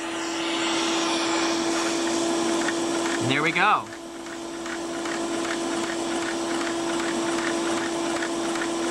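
A vacuum pump drives a Lego beam engine: a steady whirring drone with a faint repeating mechanical ticking, broken by a brief rising whine as someone speaks a few words.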